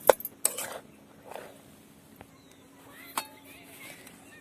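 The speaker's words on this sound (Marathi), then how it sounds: "तर साखर आता चांगली मिक्स करून घ्यायची आहे शिऱ्यामध्ये" A spoon stirring sugar into rava sheera in a metal pan, giving a few scattered scraping clinks and taps against the pan, sparse and fairly close, with quiet gaps between strokes.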